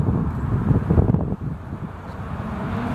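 Wind gusting through grass and red bushes in an autumn park in St. Petersburg, a soft rushing roar with buffeting gusts, steady and moderately loud with no talking.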